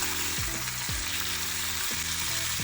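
Mint, coriander and curry leaves fry in hot oil with a loud, dense, continuous sizzle, while a few stirring strokes scrape through at a slow, even pace.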